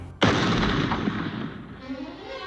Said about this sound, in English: hunters are in the forest chasing Bambi and his mother gets